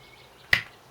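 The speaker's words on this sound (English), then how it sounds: "Oh, that lovely crack sound." A single sharp crack as a stuck, gunked-up screw breaks loose under a hand-ground screwdriver, close and brief amid near silence.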